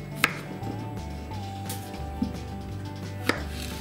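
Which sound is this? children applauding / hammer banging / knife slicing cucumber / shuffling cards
knife slicing cucumber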